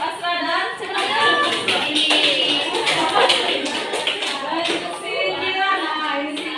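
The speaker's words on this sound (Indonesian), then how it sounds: "Kita beri tepuk tangan untuk Asra" An audience applauds together in a classroom-style gathering, a steady wash of many hands clapping for the full stretch with voices mixed in underneath.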